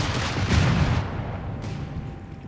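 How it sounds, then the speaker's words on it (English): Bazooka fire from a squad in the World War II strategy game Company of Heroes 3, heard as a loud burst of booming gunfire and explosions that fades into a rumbling battlefield background, with a sharp crack near the end. "Martyr Fee almost knocked out here by the bazooka swarm here, unleashed by Symbiosis."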